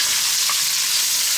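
Chopped onions hit hot oil and spices in a pot for chicken potato stew, a loud, steady sizzle and hiss of frying, close and continuous with no voices.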